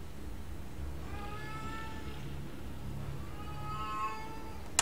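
A cat meows repeatedly in drawn-out, pleading cries, two clusters of calls close by over a low background rumble.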